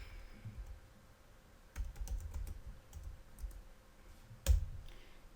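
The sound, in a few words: typing text on a computer keyboard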